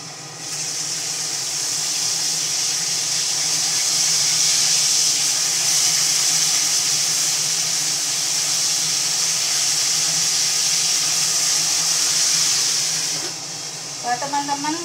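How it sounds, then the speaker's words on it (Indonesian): Fish fries in hot oil in a pan, giving a steady, loud sizzling hiss for about thirteen seconds before it fades and a few sharp crackles follow. "kalau goreng ikan itu usahakan ditutup teman ya. Selain minyaknya itu bertaburan"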